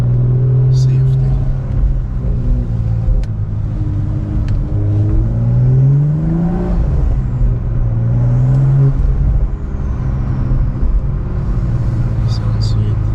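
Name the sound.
BMW M340i engine and turbo revving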